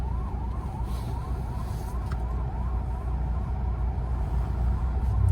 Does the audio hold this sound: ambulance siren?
yes